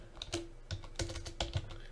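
An email being typed on a computer keyboard, with irregular clusters of close, crisp key clicks and a few heavier strokes.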